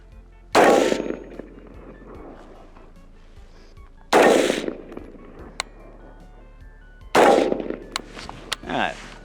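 An M16A2 service rifle fires three single rounds of Badlands ammunition at a steel plate from about 25 yards, each a loud sharp blast with a brief ringing tail, spaced a few seconds apart outdoors.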